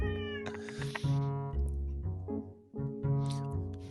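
A cat meows repeatedly in drawn-out, insistent calls that rise and fall, close and loud, with no talking over it.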